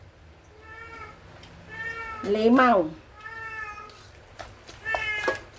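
A cat meows repeatedly in a kitchen, a string of close, clear cries including one louder, rising and falling yowl in the middle, while someone speaks briefly nearby.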